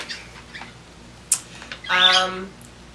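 A bird squawks and chirps in short bursts, with one louder harmonic call near the end, in a quiet indoor room.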